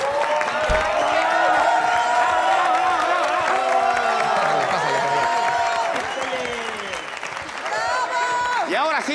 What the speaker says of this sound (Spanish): Les pido un fuerte aplauso para mi asistente, Chantal